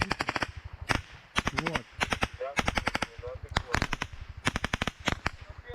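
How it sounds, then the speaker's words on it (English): Bursts of automatic gunfire crack in rapid strings over a Ukrainian trench, some close and loud, with brief pauses between volleys and a few muffled voices underneath. "We now hear some shots flying over the Ukrainian soldiers in this trench."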